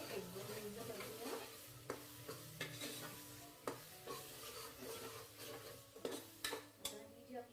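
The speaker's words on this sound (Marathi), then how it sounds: "पहिल्यांदा कांदा खोबरं आणि आलं लसूण पेस्ट दोन्ही टाकून घेऊया आणि हे 1-2 मिनिटं परतूया." Onion, coconut and ginger-garlic paste frying in a pan for mutton biryani, a steady sizzle with repeated scraping stirs of a spatula against the pan at close range.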